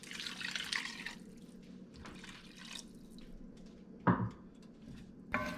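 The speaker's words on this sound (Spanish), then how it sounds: "Y a la otra mitad le voy a agregar 3 tazas de agua" Water poured into a pot while making a fish soup for cod patties, with faint dripping and splashing, a couple of louder clinks or splashes near the end, quiet and close with no talk.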